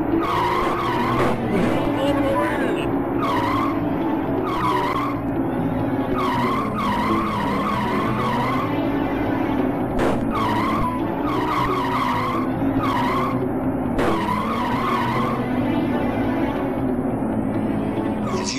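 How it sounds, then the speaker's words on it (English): Tyres squeal and skid repeatedly on mud in the Amiga racing game Wheels on Fire, looping screeches over a constant engine drone, with someone talking over the game audio. "we're skidding off all over the place again"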